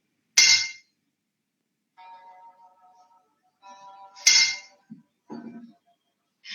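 A metal plate struck twice in a classroom physics demonstration, each hit a sharp bright clang followed by a ringing tone that decays over a couple of seconds, with a few faint softer taps between.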